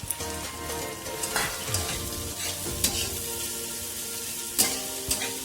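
Finely chopped onions fry in oil with a bright, continuous sizzle, punctuated by occasional stirring scrapes and clinks against the pan, heard up close without speech.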